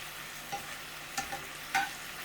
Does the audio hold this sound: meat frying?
yes